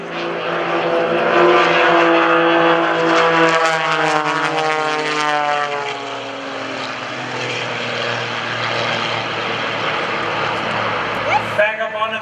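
A propeller aerobatic airplane flies a Cuban 8 at the Greenwood Lake Airshow, its engine drone rising and falling in pitch as it climbs and dives, under continuous commentary from an announcer.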